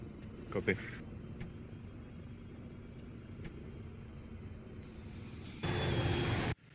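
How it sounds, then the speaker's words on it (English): An enemy helicopter in the military shooter Arma 3 drones as a steady, distant low rumble throughout, swelling into a louder, harsher roar near the end before cutting off. "We have enemy chopper."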